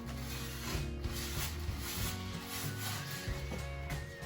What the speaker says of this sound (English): I'm going to very carefully rub it on the inside of the cling film.